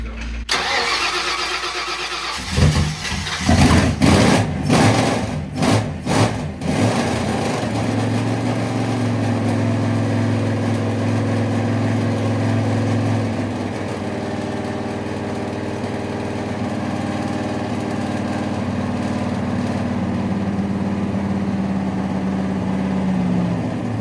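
A car engine fitted with a new intake manifold cranks and catches after a few stuttering bursts, then settles into a loud, steady idle that runs on close by, with a voice briefly heard over it.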